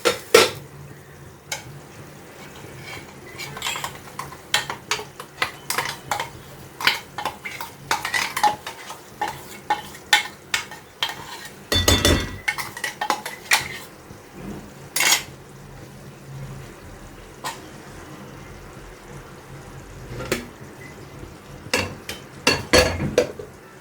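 Thick ground paste of poppy seed, coconut and cashew stirred into a vegetable kurma gravy in a pan, with repeated close clinks and scrapes of a spoon against metal in an irregular rhythm, plus a faint simmer underneath.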